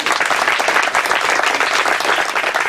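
Audience applause for a coach at a Gonaïves event, dense and steady clapping from a sizeable crowd lasting throughout, loud and close with no pauses.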